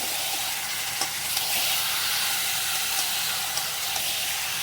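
Spice-marinated meat sautéing in hot oil gives a loud, dense, steady sizzle and hiss, with a few faint stirring knocks.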